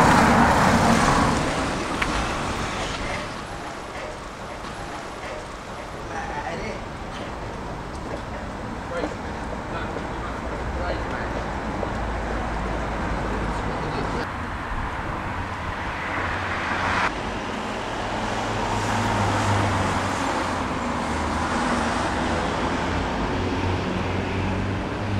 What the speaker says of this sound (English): You can't see the traffic coming this way and you can't see past the parked cars